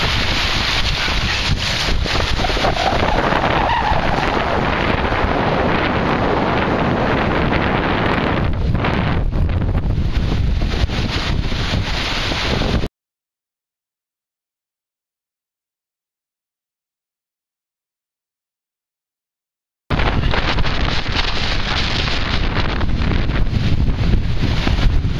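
Strong outdoor wind buffets a microphone in loud, continuous rumbling gusts, cut by a stretch of complete silence before the roaring resumes.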